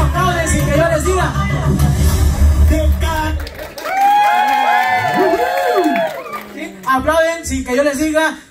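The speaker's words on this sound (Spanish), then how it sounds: "los de atrás aplauden sin que yo les diga" Guests at a baptism party show cheering and shouting as a lively crowd, first under loud music and talk, then high excited children's screams and whoops, with voices throughout.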